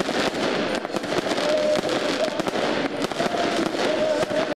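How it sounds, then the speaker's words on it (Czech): A traditional New Year's fireworks display by a bowling alley in a Czech town crackles and bangs continuously, with dense overlapping pops and bursts, loud and close. "Na své si přišli i milovníci tradičního ohňostroje, který se odehrál u nedaleké kuželny."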